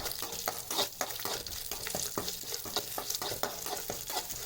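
Six or seven cloves of garlic sautéing in a pan for a drumstick-leaf rice powder lunch, a steady close sizzle and fry with repeated stirring clicks of a spoon against the pan, no talk.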